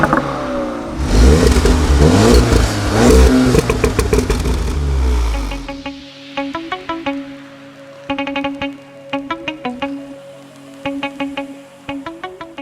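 Volkswagen Golf R with a DSG gearbox accelerating hard in a drag race. A loud engine roar rises and builds for several seconds, then gives way to a quieter rhythmic clatter.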